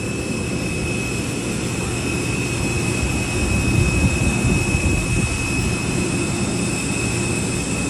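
Jet aircraft engines whine and roar at Huntington Tri-State Airport during boarding, a loud steady drone with high tonal whine that swells slightly midway, no talking.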